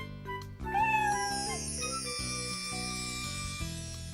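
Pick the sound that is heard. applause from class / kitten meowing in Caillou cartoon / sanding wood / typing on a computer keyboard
kitten meowing in Caillou cartoon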